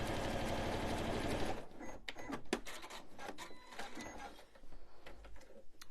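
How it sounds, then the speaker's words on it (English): A domestic sewing machine runs steadily while stitching a Christmas stocking, its rapid, even needle chatter giving way after a second and a half to slower, intermittent clicks and short runs of stitching. "while I'm just sewing away?"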